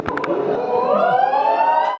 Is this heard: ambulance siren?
yes